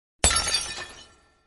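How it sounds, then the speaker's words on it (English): A vase falls and breaks with a sudden loud crash, a sharp shattering burst of glassy fragments that rings out and fades over about a second, alone. "The vase fell with a crash."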